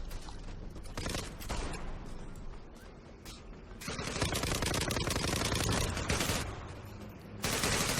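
Dense, rapid gunfire from the Zula online shooter game rattles in long automatic bursts with overlapping shots, loud and continuous in stretches with brief lulls, gameplay sound with no speech.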